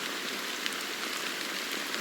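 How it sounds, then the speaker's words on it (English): Steady rain pours down in a dense, even hiss, continuous and close with no voices. "how long has this rain been going on for?"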